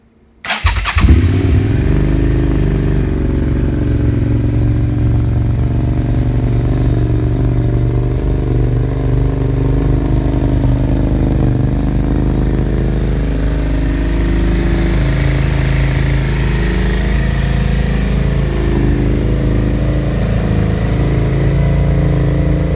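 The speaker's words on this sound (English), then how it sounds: "let me start it up for you so you can listen to it" A crashed sport bike motorcycle with a broken clutch perch and jumped clutch switch cranks and fires, then settles into a loud, steady, close idle with a rough mechanical rumble that continues without a break.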